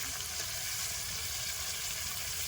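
Garlic paste hitting hot oil in a pan while cooking chicken biryani: a steady, even sizzle, fairly quiet and close, with no talk over it.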